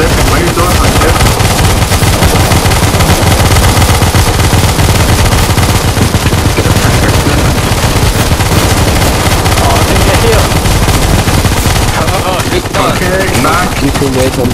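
Dense, loud automatic gunfire in the CS:GO Zombie Escape mod on the ze_chaos_v7_4f map, sustained rapid bursts filling the whole stretch with talk mixed in beneath.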